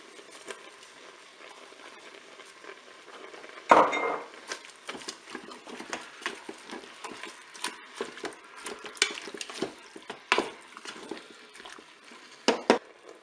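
Onions tipped into a hot Cookeo pot with browned beef, a sudden clatter followed by stirring, scraping and soft sizzling patter that continues in irregular bursts.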